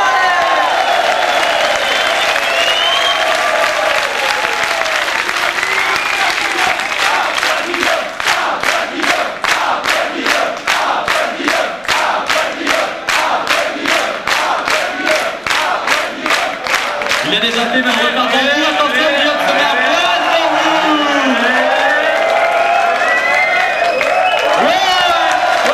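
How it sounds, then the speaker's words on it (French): A large student crowd at a welcome-week presentation claps rhythmically in unison, with whoops and shouts rising over the beat, then breaks into looser cheering and yelling as the rhythm ends. "on applaudit Guillaume"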